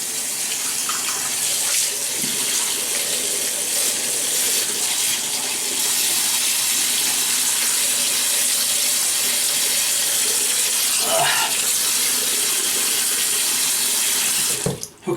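Steady broadband rush of water from a running tap into a sink while wetting the face for a shave, continuous and close for nearly the whole stretch, with a brief splash near the end.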